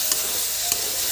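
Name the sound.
stirring fish curry in a hot pan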